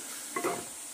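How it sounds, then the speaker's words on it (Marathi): Pomfret pieces dropped into hot ginger-garlic spice masala in a home village kitchen, giving one short, close sizzle and stir that rises briefly and fades back into a steady background hiss. "त्यात मी आता ही मच्छी सोडते."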